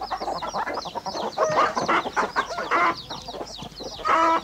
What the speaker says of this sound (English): the whole place was teeming with chickens